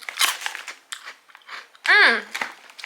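Shrimp chips crunch loudly close to the mouth in crisp, irregular bites and chews, broken by a brief voiced hum partway through.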